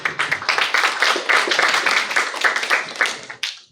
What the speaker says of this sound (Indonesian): Tepuk tangan buat mahasiswa ITB.